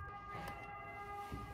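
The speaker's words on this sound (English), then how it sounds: "You can hear that ambulance for so, so long." An ambulance siren in Milan wails faintly from far away, a sustained tonal whine holding steady under light street ambience, with no talking.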